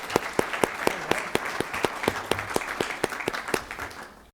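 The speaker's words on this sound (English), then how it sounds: "let's give the Culinary Academy East students a round of applause" Applause at a school board meeting honoring Culinary Academy East students, a modest room of clappers with a rhythmic, regularly pulsing clap standing out over the softer spread, tapering off at the end.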